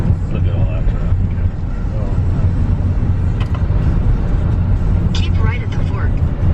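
Highway traffic on a Kentucky road near Licking Pike and the AA Highway, heard as a steady low rumble of passing cars and engines from inside a vehicle, loud and continuous throughout.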